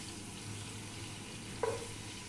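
Chicken fat and chicken skin frying over high heat, a steady close sizzle with a brief clink partway through.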